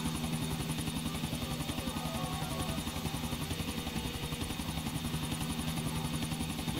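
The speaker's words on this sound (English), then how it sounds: "Shut down that chopper for you." Helicopter in the Grand Theft Auto IV video game, a steady rapid rotor chop with engine whine, loud and continuous throughout.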